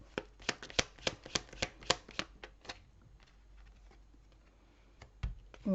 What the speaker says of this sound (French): Je vais tirer l'ensemble des cartes.